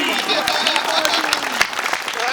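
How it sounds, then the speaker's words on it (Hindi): An audience at a comic poetry recitation claps in a dense, steady burst of applause, with a voice speaking over the clapping. "दोनों हाथ उठाए के अपने ताली ठोको फूफा जी"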